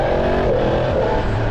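A stock 2023 Yamaha MT-10 motorcycle engine with a 165-horsepower figure roars loud and close, a dense, steady revving drone holding throughout without speech.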